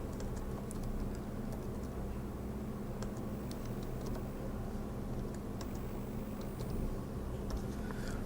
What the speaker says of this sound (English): I will type in an appropriate name